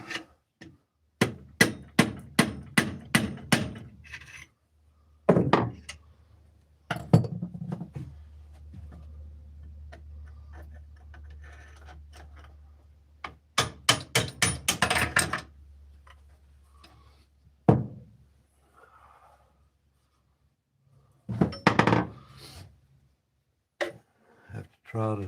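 A hammer knocks a mandrel off a wooden Indian finial on a lathe in a woodshop, sharp hard clacks in quick rapid bursts with pauses between, accompanied by a low motor hum and brief bits of talk.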